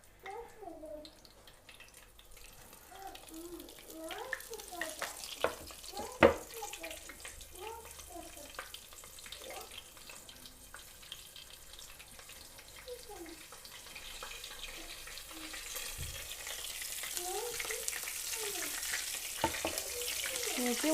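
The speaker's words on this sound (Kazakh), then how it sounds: "мінекей осылайша екі жағында қуырып аламыз." Meat cutlets frying in a pan covered with a board give a quiet, continuous sizzle that grows louder toward the end, while a person talks over it.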